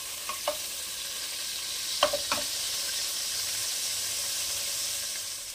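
Meat frying in oil in a pan, a steady broad sizzle throughout with a few brief clinks or stirs around the middle; no voices.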